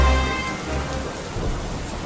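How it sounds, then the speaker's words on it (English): Heavy rain pours steadily, close and loud, with a deep rumble of thunder rolling underneath throughout a stormy downpour. "The rain was coming down harder."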